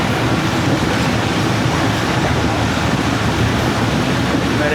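Pakistan Railway's 33UP Pak Business Express slowing under braking, a loud, continuous roar of rolling wheels and rail noise heard from on board, with no clear breaks or talk.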